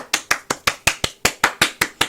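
A single person claps by hand, about a dozen sharp, close claps in an even, quick rhythm with short gaps between them.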